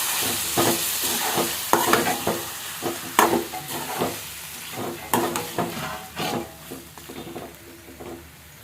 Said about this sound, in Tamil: இப்போ சிக்கன் வந்து அந்த மசாலா சோறு போட்டு நல்லா வதக்கிடலாம்